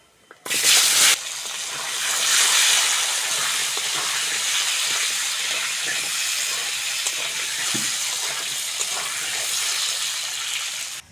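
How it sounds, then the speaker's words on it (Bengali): Potato and papaya pieces hit hot oil spiced with panch phoron, giving a sharp burst followed by a loud, steady hissing sizzle that carries on close by. "আলু আর পেঁপেটা ভালো করে ভেজে নিয়েছি"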